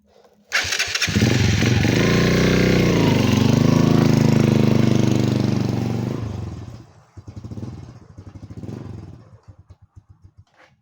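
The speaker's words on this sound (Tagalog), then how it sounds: "Ayan ang motor ko." A motorcycle engine cranks and catches with a sudden loud roar, revs steadily for several seconds up close, then cuts off and leaves sputtering, irregular clatter as it winds down.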